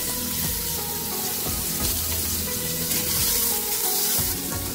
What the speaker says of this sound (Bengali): এবার কিছুটা পেঁয়াজ তেলের মধ্যে ভেজে নেব।